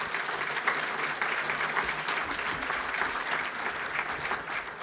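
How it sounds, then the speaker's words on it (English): Audience at a state of the region event applauding a congressman after his cybersecurity talk, continuous clapping from many hands at moderate distance, fairly quiet and even throughout. "Give him another round of applause."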